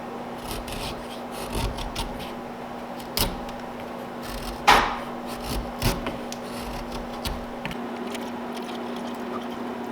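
Steady rasping and scraping of a hand tool on wood while a hatchetfish-shaped fishing lure is carved, the close rubbing strokes broken by a few sharper knocks and scrapes.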